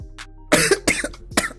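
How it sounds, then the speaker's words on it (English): A few harsh, close-up coughs in quick succession, with a brief pause between the bursts. "hang on, I'm coughing"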